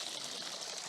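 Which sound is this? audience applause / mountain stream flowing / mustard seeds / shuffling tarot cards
mountain stream flowing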